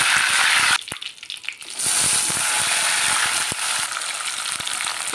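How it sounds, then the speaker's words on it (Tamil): Curry leaves drop into hot oil already holding mustard and fenugreek seeds for a brinjal kuzhambu. A loud crackling sizzle dips briefly, then surges back dense and steady with small pops. "கருவேப்பிலை போட்டுக்கலாம்."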